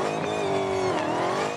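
The 840 horsepower engine of a Dodge Challenger SRT Demon at the 2017 New York Auto Show roars loud and close, its pitch briefly rising and holding in a brief burst, with no voices.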